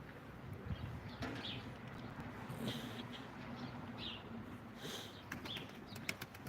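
A pigeon at a live pigeon auction flapping its wings in several short, soft fluttering bursts, fairly quiet against a low room hum with scattered handling noises.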